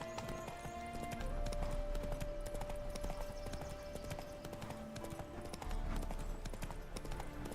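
Hooves of Geralt's horse Roach clip-clop in a steady galloping rhythm in The Witcher 3, loud and continuous over a layer of game music, with an occasional whinny and no talking.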